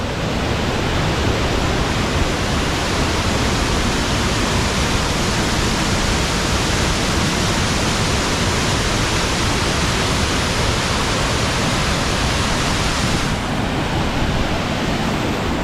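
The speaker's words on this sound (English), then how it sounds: "Get one last shot of this beautiful waterfall." Nevada Fall in Yosemite in winter roars as a steady, dense rush of falling water, loud and close, continuous throughout with no voices.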